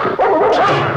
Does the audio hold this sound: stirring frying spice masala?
no